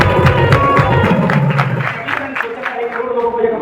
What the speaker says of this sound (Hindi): अब तो सरवण जी के लिए ताली बजाओ,